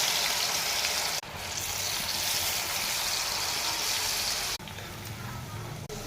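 Aloo kurkure potato snack pieces deep-fry in hot oil, a dense continuous bubbling hiss close by, briefly cut by two short dropouts.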